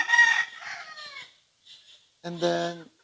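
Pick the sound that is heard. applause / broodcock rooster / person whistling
broodcock rooster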